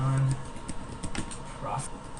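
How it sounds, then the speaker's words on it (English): Computer keyboard typing in a quick irregular patter of soft key clicks, close by, with a voice speaking over it. "type in your company name"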